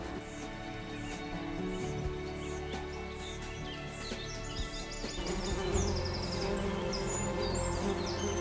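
A honeybee scout flies over a flowery meadow, a faint, continuous buzzing hum with occasional high chirps in the background.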